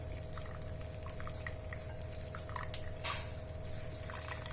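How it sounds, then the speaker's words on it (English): Water trickling and dripping steadily as homemade paneer is squeezed in a cloth, a soft continuous splashing close by over a low hum, with no voices. "Now squeeze the extra water"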